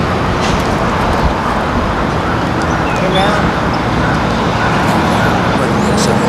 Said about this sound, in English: Here comes that white car, I think.